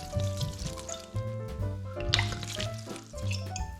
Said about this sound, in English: Then I add half bottle of brandy.